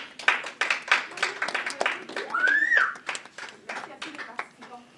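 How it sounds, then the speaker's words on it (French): A small group claps for masked quiz participants, scattered, uneven hand claps sounding close and lively while a voice and a brief sliding tone break in partway through. "donc on peut applaudir les savants masqués"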